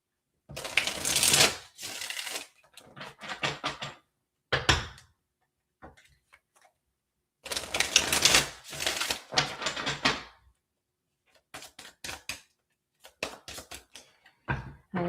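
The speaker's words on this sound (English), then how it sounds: "I'm just getting a pre-shuffle here." Tarot cards are shuffled in quick riffling bursts separated by short pauses, close and crisp, with soft taps and handling noises between the shuffles.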